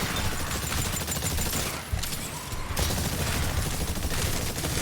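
Dense, continuous gunfire from shooting hordes of dinosaurs in the video game Exoprimal, rapid bursts layered loudly over each other with a brief dip midway before resuming.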